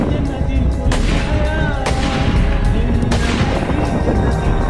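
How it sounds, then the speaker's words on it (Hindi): Rapid gunfire during women commandos' firing training in Iraq, loud and continuous with sharp repeated reports and echoing booms throughout. "उसके बाद दूसरी औरत फायरिंग करना शुरू कर देती है।"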